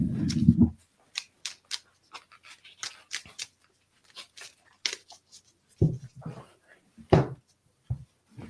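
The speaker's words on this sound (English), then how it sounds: "let's shuffle these cards again." Tarot cards being shuffled, with short papery riffles and flicks in quick irregular bursts, close and fairly quiet, separated by brief bits of low talk.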